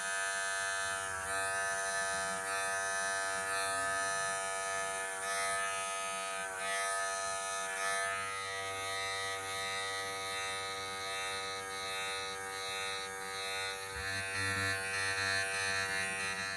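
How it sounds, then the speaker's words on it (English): Electric hair clippers run against the skin while cutting a fade, a steady, close, continuous buzz that wavers slightly in pitch and strength as the blade moves through the hair. "Just keep pressing your clipper on the skin and just go over"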